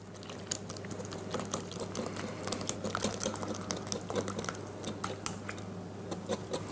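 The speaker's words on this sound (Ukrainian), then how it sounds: "Тепер цю вершкову суміш змішую з сухою, тобто з борошном, і поступово мішаю вінчиком." A whisk stirs a cream mixture into flour for banana pancakes, a quiet, steady run of rapid soft ticks and scrapes against the bowl over low background hum, no speech.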